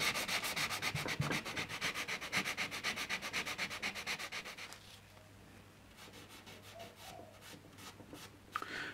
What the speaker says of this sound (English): So I'll just sand it off a bit.